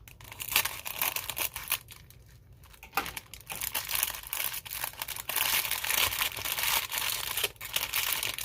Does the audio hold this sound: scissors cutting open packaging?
yes